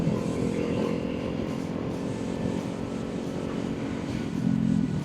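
A motorcycle coasting on the road with the clutch pulled in, a steady low engine idle and wind rumble continuing evenly throughout, close and fairly loud with no talk.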